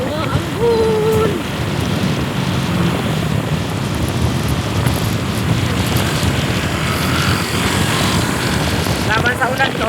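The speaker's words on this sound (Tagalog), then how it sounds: "Ayan mga katulis, umaambon!" Light drizzle falls outdoors on a boat as a steady hiss of fine rain mixed with wind buffeting the microphone, with a voice briefly heard over the continuous wash.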